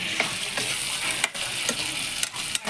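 Pork curry with potatoes and tomatoes sizzles steadily in a pan while a spoon stirs it, scraping the bottom in a few brief knocks over the constant close frying hiss, with no talk.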